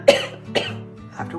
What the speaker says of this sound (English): After we cough.